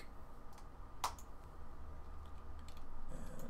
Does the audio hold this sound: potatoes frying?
no